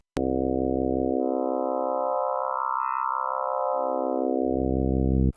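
A sustained, steady Access Virus TI synthesizer tone with rich, buzzy harmonics that shifts in timbre, thinning toward a brighter, hollow middle before returning to a full, bass-heavy sound.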